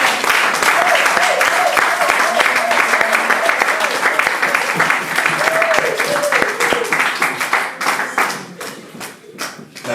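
A church congregation applauds to acclaim the Lord: dense, steady clapping near and loud throughout, with scattered voices and an organ-like tone underneath, thinning toward the end.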